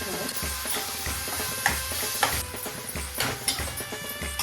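Chicken mince stirred in a pan with a spoonful of yogurt, a soft sizzle beneath a steady, rhythmic scraping of the spoon with occasional sharper clicks.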